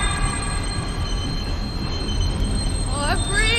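A railway wagon rolls along the track in the video game Close to the Sun, a steady rumbling roar with metallic wheel squeals rising near the end, while a voice speaks over it.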